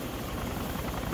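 Helicopter in the video game DayZ Overpoch, a loud, steady rotor and engine roar filling the whole moment without any talk.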